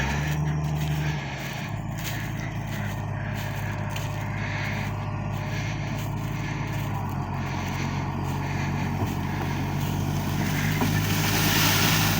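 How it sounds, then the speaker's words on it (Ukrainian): A Case MX270 tractor pulling a plough during field ploughing drones with a loud, steady diesel engine hum that continues throughout, with a low tone that shifts slightly early on. "трактор тяне, хоч і оце як не дивишся назад"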